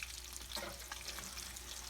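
Meatballs browning in a frying pan give off a faint, steady sizzle and crackle, quiet and continuous, with no voices.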